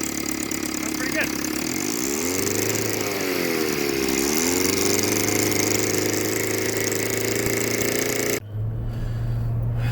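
An outboard engine from 1968 on a bass boat idles close by, a loud continuous buzzing drone with a rising and falling pitch wobble in the middle and a brief dip near the end.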